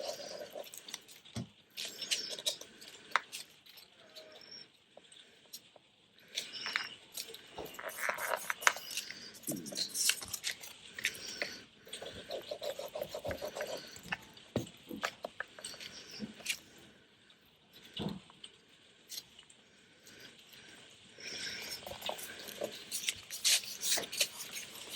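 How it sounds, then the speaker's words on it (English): Light, irregular pattering spreads over the whole stretch, soft rustling taps with a few sharper drops, close and fairly quiet, with no voices over it. "Here comes the rain."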